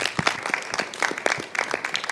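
Applause from an audience for a female singer on a stage show, a dense run of many hands clapping close and loud with no talk, steady for the whole stretch.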